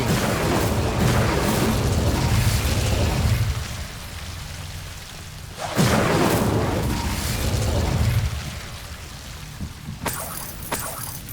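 Two bursts of fiery magic from the Incendio spell in Hogwarts Legacy roar loud and crackling, each lasting a few seconds before dying down, with a sharp crack near the end.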